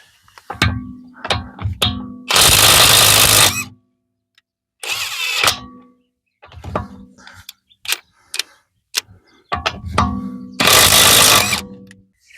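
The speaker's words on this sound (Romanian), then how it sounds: "Și vom avea acum acest Parkside cu acumulator de 4 amperi." A Parkside Performance cordless impact wrench on a 4 Ah battery, set to mode B, fires in loud close hammering bursts of a few seconds each, with clicks and handling knocks between them.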